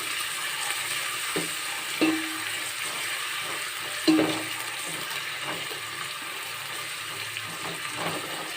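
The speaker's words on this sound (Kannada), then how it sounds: "ಎಣ್ಣೆ ಬಿಸಿ ಆದಮೇಲೆ ನಾನು ಕಟ್ ಮಾಡಿರುವಂತಹ ಈರುಳ್ಳಿನ ಹಾಕೊತಾ ಇದ್ದೀನಿ ಇದಕ್ಕೆ ಈರುಳ್ಳಿ ಹಾಕಿಬಿಟ್ಟು ಈ ಥರ ಫ್ರೈ ಮಾಡ್ಕೋಬೇಕು" Chopped onions frying in hot oil in a pan for flattened-rice pulao, a steady close sizzle with a few sharp stirring scrapes and clicks throughout.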